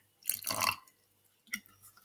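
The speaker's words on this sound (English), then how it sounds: "put in a tiny bit of moon water that I collected during the eclipse" Moon water collected during an eclipse poured in small amounts during a home ritual: a short splashy trickle, then a brief second drip, quiet and close.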